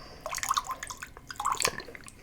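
Ordinary water poured into a glass of bourbon, a run of small splashing, trickling drips of varying pitch heard close and alone.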